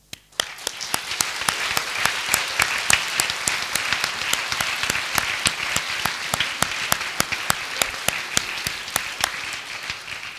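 A graduation ceremony audience for a Master CCA degree applauds the programme's professors, dense sustained clapping from a large crowd that holds evenly throughout.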